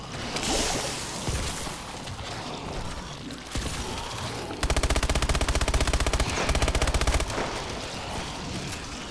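Automatic gunfire from a freshly bought weapon in the EXO Zombie video game, a loud rapid stream of shots that runs steadily for several seconds among other game noise and effects.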